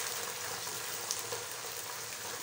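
Onions sizzle steadily in a hot pan during sautéing, a dense, even crackle with no talk over it.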